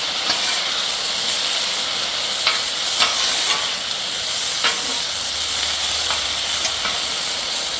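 Shrimp lo mein sauce sizzles steadily on a Blackstone griddle, a dense continuous hiss with a few sharp spatters and pops scattered throughout, close and loud with no talking.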